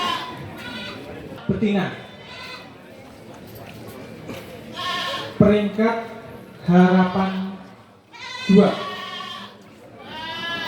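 Goats bleat repeatedly at a local goat contest in Kulon Progo, several harmonic calls standing out over continuous announcer speech and crowd murmur from the stage area.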